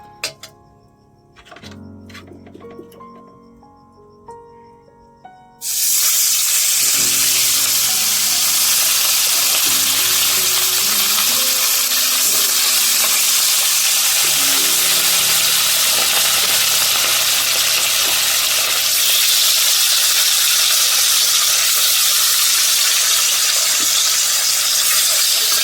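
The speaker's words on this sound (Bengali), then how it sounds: "তেলটা গরম হয়ে গেছে, এখন আমি এক এক করে মাছগুলি ছেড়ে দেব।" Hilsa fish pieces dropped one by one into hot oil in a pan, bursting into a loud, steady, hissing sizzle that fills the space after a few quieter kitchen clatters.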